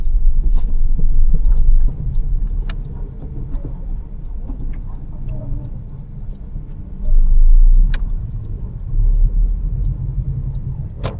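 A Honda Amaze drives through Latur traffic with a low, steady engine rumble, interior clicks and small rattles, and a couple of louder surges.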